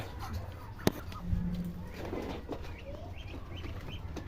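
Young ducklings and other poultry on a farm give soft peeps and clucks at a moderate distance, scattered over low outdoor background noise, with a sharp knock near the start.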